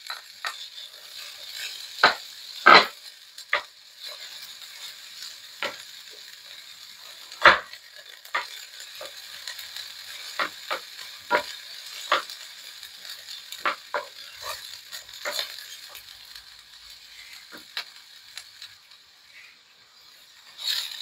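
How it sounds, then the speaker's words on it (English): Onions sauté in a pot with chicken, giving a faint, steady sizzle broken by scattered sharp crackles and pops. The sound stays quiet throughout, with no voices. "now I'm just going to add our onions and give those nice and sauteed."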